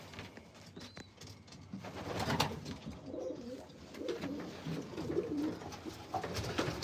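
Pigeons in a breeder loft cooing repeatedly, soft low throaty calls overlapping close by amid faint rustling and shuffling.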